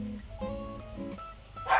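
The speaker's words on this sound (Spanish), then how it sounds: "está ladrando, estará pasando alguien por ahí." A dog barks in a home garden on a mild spring day, giving a few short, close bark-like bursts, the last one louder, over quiet background sound.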